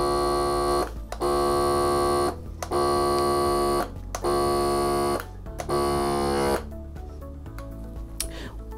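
An Avid Armor AVS7900 vacuum sealer pump runs with a steady motor drone and strong harmonic whine in bursts, cutting out briefly several times, then shifts to a rougher, fluttering tone near the end.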